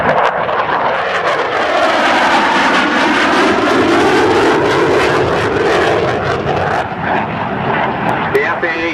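A Navy F/A-18 Hornet jet roars past on a final photo pass at an air show demonstration. The loud, broadband engine rush swells and sweeps in pitch as it passes, filling the whole clip.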